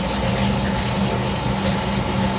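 Steady, close stream of water running from a newly installed Moen Posi-Temp shower valve, an even hiss with a low mechanical hum underneath and no talking.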